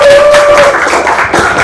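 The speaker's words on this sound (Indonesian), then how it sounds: "Tepuk tangan terlebih dahulu." Students applauding in a classroom, a short, loud burst of dense clapping close by, lasting under two seconds.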